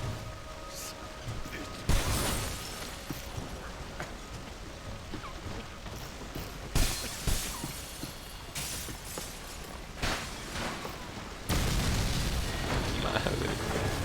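Loud rumbling blasts from an explosion in Max Payne 3, with booming bursts near the start, middle and end over constant noisy game sound and some talk.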